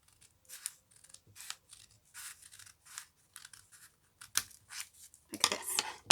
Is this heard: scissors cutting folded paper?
yes